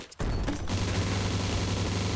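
A grenade goes off in the Surviv.io battle game: a sudden loud burst that settles into a sustained, rumbling roar with no talking.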